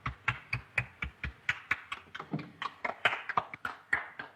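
Sparse, distinct hand claps from a small group at a 1932 film's gathering, about four per second, sharp and fairly close, with no talking over them.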